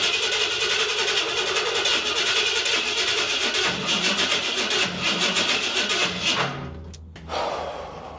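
A big block engine cranks and catches, churning steadily for several seconds before the sound cuts off abruptly, then sputters briefly once more at close range in a garage-like setting.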